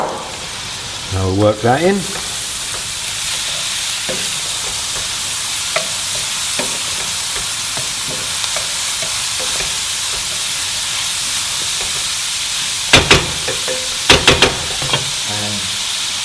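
Diced carrot sizzles and fries steadily in a hot pan while a spoon stirs and scrapes it, with a few sharp clatters near the end; someone speaks briefly over the cooking.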